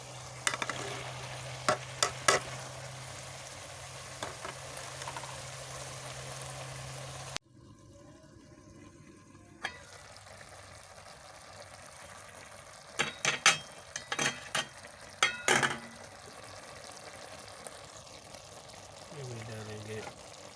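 Okra for a bhindi masala fries in a pan with a steady sizzle while a spoon stirs it and scrapes the metal in short bursts, close and fairly quiet throughout.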